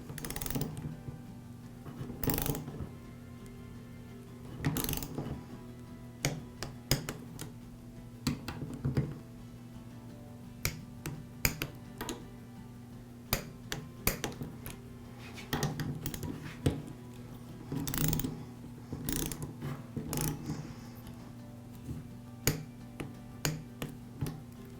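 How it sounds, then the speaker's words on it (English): A torque wrench tightens the head bolts of an air compressor pump in a crossing pattern, giving a series of sharp clicks and ratcheting ticks that come in small clusters at close range, with a steady hum underneath. "Now we'll torque these bolts to between 49 and 55 inch-pounds. I'll torque the head bolts in a crossing pattern."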